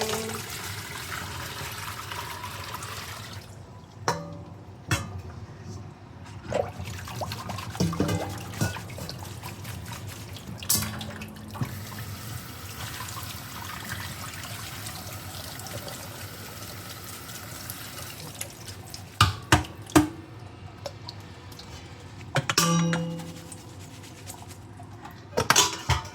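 Rinse water drains from lemongrass in a sink, a long steady wash of trickling and gurgling with scattered drips and knocks, fairly quiet throughout.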